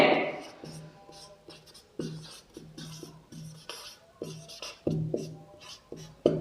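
Chalk or marker scratching out an equation on a classroom board in quick strokes and taps, with pauses between marks and a faint voice early on.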